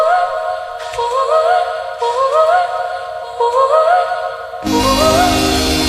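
A looping sung vocal phrase, a high warbling melodic figure repeating about every 1.2 seconds, played four times at steady loudness with no talking, the last pass joined by fuller instrumentation.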